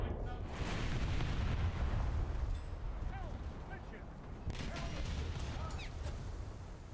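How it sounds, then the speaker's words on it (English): Naval gunfire in War Thunder, heard from a cruiser in a sea battle as a continuous heavy rumble with muffled booms and distant impacts running throughout the whole stretch. "If you shoot at me, I have to shoot at you."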